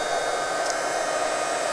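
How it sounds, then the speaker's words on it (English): A heat embossing tool blows hot air over a snowflake Christmas card, making a loud, steady, even whoosh of airflow that fills the whole short stretch, with no talking. "I love heat embossing. It just seems like magic."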